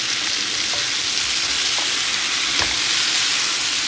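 Potatoes frying in hot oil give off a steady, dense sizzle, with a few faint scrapes or clicks of a utensil across the pan.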